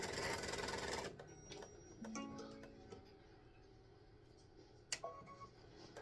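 An embroidery machine stitches a tic tac toe board piece with an odd, uneven running noise, loud and dense at first, then dropping to quieter ticking and mechanical clicks with a sharp knock near the end.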